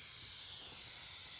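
A Duplicolor Perfect Match touch-up spray paint can spraying, giving a steady, close, high airy hiss that holds evenly throughout with no voices.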